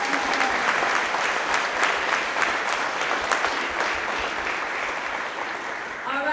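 An audience at a workplace monthly celebration gives a full round of applause for employee anniversaries. The clapping is dense and even and lasts about six seconds before easing slightly.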